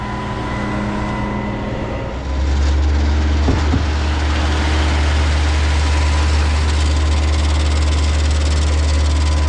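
A piggyback concrete pump at a tight-access construction site runs steadily, then its heavy low engine drone surges louder after a couple of seconds and stays loud and continuous as it takes strokes.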